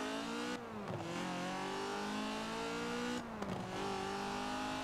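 A small Ford sports car engine in Forza Horizon 4 drones steadily with a revving, racing tone, shifting pitch twice as it changes gear, continuous and fairly close with no talking.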